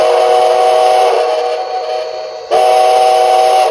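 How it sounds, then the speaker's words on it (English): An HO model steam locomotive's sound decoder plays a Canadian National five-chime whistle. A loud, sustained chord fades slightly, breaks briefly, then returns at full strength. No voices. "Canadian National 5 chime."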